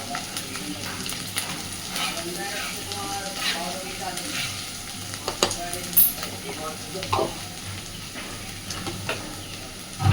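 Ground turmeric and other powdered spices sizzle in hot oil in a pan as a spoon stirs and scrapes, making a constant frying crackle with intermittent clatter and a few louder knocks; a voice speaks faintly over it.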